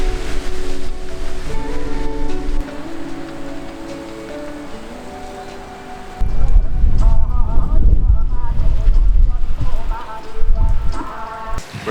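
Heavy rain pours steadily during a blizzard on Jeju Island, Korea, a loud dense hiss that swells partway through with a deeper low rumble, heard alone without talk.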